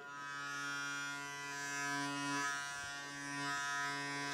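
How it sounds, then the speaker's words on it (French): An Oral-B iO electric toothbrush switched on and running, giving a steady close electric hum with a strong whining tone that wavers slightly in pitch and level, heard alone. "Donc, c'est Oral B IO en termes de bruit."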